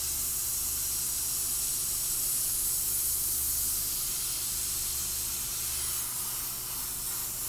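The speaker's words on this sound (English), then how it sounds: "Pressing it, like spraying some white on it and then press it down" Continuous airbrush hiss as white paint is sprayed onto a shirt, a steady close spray with a low background hum throughout.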